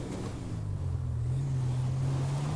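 Car engine in the video game GTA 5, stuck on a slope and droning at a steady low rev that climbs slightly in pitch, continuous and fairly loud with no talk.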